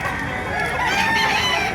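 Roosters and hens at a live chicken market in Baliuag, Bulacan, among them a Golden Boy sweater-bloodline rooster, clucking and crowing in a steady, dense flock noise with no pause.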